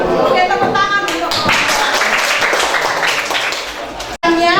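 A class of students applauds a group in a chemistry lesson, a close, dense burst of clapping that fades out, with a teacher's voice heard at the start and end.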